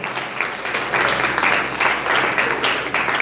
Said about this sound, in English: big round of applause as she's assisted